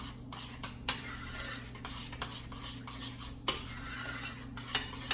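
Thick homemade tomato sauce with cheese is stirred with a utensil, giving a steady scraping of metal against a pot with a few sharper knocks, close up and with no voices.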